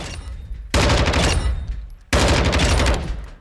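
Two long, loud bursts of automatic gunfire at the firing range in Call of Duty Modern Warfare II, each lasting over a second with rapid dense shots, separated by a brief gap and no talking.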